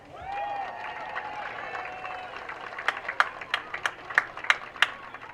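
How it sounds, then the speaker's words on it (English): Crowd applause for number 28, Matt Holt, during a player introduction: a few scattered claps come first, then sharper, louder claps pick up in an uneven burst over a faint background murmur. "Big round of applause for number 28"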